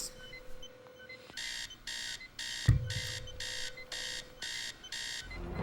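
Incoming message alert on a device that sounds like an alarm clock: a run of about ten evenly spaced, loud electronic beeps in bursts, with a brief thud partway through and a quiet room behind, no talk.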